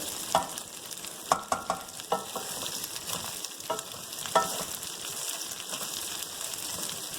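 Okra frying in a pan crackles with a constant sizzle while a spoon taps and scrapes in irregular bursts, several sharp clinks near the start, close-up with no voices.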